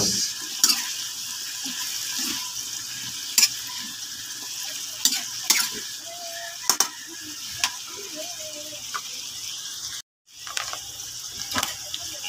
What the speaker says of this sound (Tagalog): Ganyan ang pagluto ng sitaw.